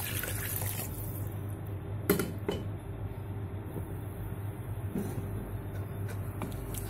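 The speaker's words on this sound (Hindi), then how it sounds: "अब इसमें इक्वलेंट वाटर ऐड करेंगे इसके अंदर" Equal measure of water poured into a pot of fried rice for potato tahri, a steady running splash with a few brief clunks, close and moderately loud.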